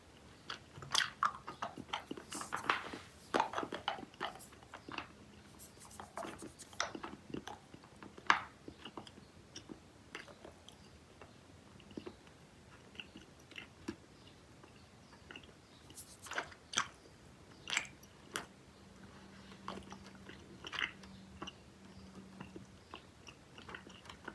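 Dubble Bubble 1928 flavor big-bar gum chewed close to the mic, with wet, sticky smacks and squishes in an irregular rhythm and a few louder bites, no talking.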